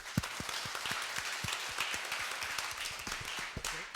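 Sparse, fairly quiet clapping from a small audience at an Ember.js tech meetup in New York, with distinct individual claps scattered unevenly rather than a full roar.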